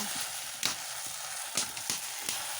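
Continuous sizzle of taro greens frying in a pan, with a few sharper crackles and stirring scrapes breaking through the steady hiss.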